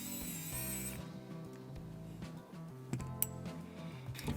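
An electric screwdriver whirs steadily close by, removing screws from a white Razer Blackwidow V4 75% keyboard, then cuts out after a second, followed by lighter scraping and a few sharp clicks.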